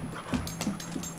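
A wet, happy puppy outdoors in the cold gives soft whimpers and quick panting breaths, close and fairly quiet, over a steady background hum.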